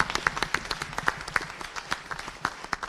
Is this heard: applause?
yes